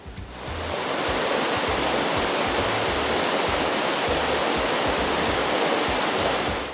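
Water rushing at Seven Tubs, where two streams meet, makes a loud, steady broadband roar that swells in quickly and stays constant, with no voices.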